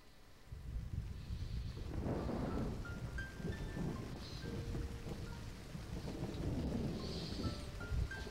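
Rain and rolling thunder open the intro of the video game Dust: An Elysian Tail, a steady downpour hiss with deep rumbles swelling through and faint piano-like tones above.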